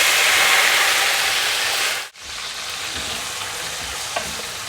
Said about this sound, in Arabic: هلا بدي اقلي حبتين جزر وشوية زبيب